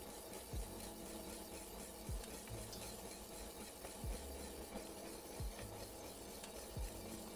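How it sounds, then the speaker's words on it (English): Polenta whisked in a pot while cornmeal is sprinkled in: a steady scraping swish with a sharper stroke roughly every second and a half, close and moderately loud, with no talking. "And so we're sprinkling kind of as we're whisking."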